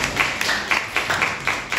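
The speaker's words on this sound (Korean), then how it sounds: "감사 박수 한 번 더 보내실까요?" Steady, evenly spaced claps from an audience at a panel debate on war risk on the Korean peninsula, a short run of rhythmic hand claps at moderate loudness with no talk over them.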